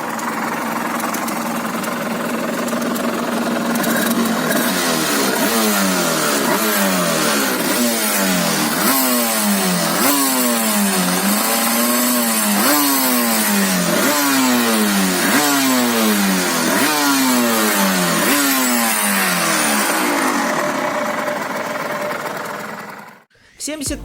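Powerful two-stroke sport motorcycle engine, a roughly 70 hp stock sportbike, revving loudly and repeatedly: about a dozen quick rising blips, each climbing sharply then dropping back, over a steady raspy idle, before cutting off at the end.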